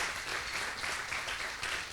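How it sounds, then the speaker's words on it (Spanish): A church congregation claps together in a soft, steady wash of applause heard from some distance, even in level throughout and with no speech on top. "Aplaude fuertemente si recibes esta palabra"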